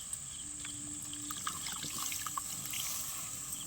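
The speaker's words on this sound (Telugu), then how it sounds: "తీసి పెట్టుకున్న చింతపండు రసం అయితే వేసుకోవాలా" Tamarind juice being poured into a simmering fish curry, a faint close trickle and light splashing of liquid with small drips, quiet and without talk.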